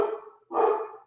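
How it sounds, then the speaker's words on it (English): A dog barks indoors: two quick, fairly close barks with a short gap between them, heard alone with no talking. "I apologize for the barking."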